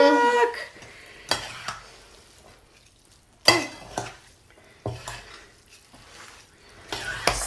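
A spoon stirs thick pesto in a pot in irregular scraping strokes, each stroke a short clatter against the metal, fairly quiet and close with pauses between.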